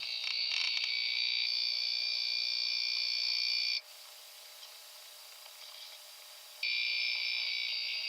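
A long, odd alarm-like sample for drum and bass production: a steady, bright sustained tone that drops to a quieter, duller wash for a few seconds midway before the bright tone returns, heard alone.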